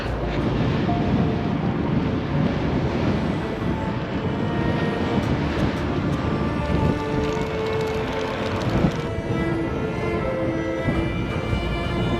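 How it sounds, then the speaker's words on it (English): Strong desert headwind buffeting a cyclist's microphone on a long ride from Joshua Tree toward Las Vegas, a steady loud broadband roar with gusty rumble throughout and no talking. "Strong headwind. It's hard to make progress."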